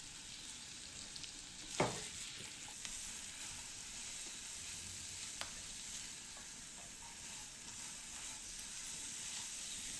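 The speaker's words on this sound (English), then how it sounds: "Add the onion. Give it a quick mix and let it cook." Onion frying in melted butter in a pan gives a steady, even sizzle throughout, with a single louder stir or clatter near the start and a few faint clicks later.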